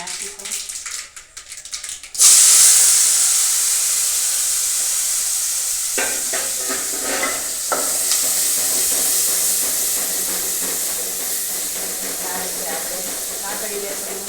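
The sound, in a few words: onion sizzling in oil with mustard seeds and cumin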